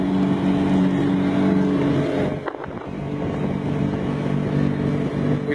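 Outboard motor of an Anacapa offshore power dory cruising off plane at about one-third throttle, a steady close engine drone with water rush and a brief dip midway.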